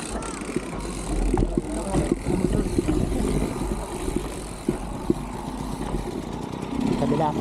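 Motorcycles pass on a mountain trail at Mt. Balagbag, a rough engine rumble with sputtering revs rising and falling over several seconds, mixed with outdoor clatter and people talking nearby.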